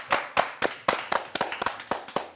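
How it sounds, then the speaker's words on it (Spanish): A small group claps to welcome a guest. About a dozen distinct, close hand claps land at an uneven rhythm, each one sharp and separate rather than merging into a continuous roar. "le voy a dar la bienvenida con un fuerte aplauso a Ale."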